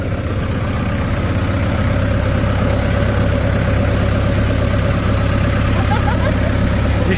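A tractor engine idles close by, a steady loud low rumble that holds evenly throughout with no clear voices over it.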